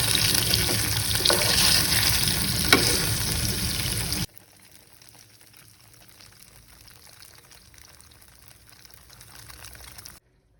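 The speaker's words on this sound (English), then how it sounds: "So here I'm frying some tofu pieces with some turmeric and salt" Tofu pieces frying in oil with turmeric and salt, a loud, dense sizzle for about four seconds that then drops suddenly to a faint, low hiss.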